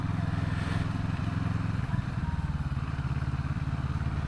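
A CFMOTO 650NK motorcycle pulls away hard in first gear, its parallel-twin engine giving a steady, loud, throbbing roar close by with a brief dip in the middle.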